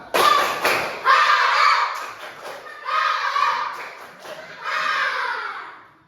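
A classroom group claps out a spirited chant routine: short clusters of loud claps trade off with energetic children's shouting, repeated in three rounds at close range.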